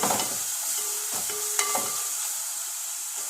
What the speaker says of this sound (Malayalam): സവോള വഴറ്റുമ്പോൾ നല്ല പോലെ വഴറ്റണ്ട കേട്ടോ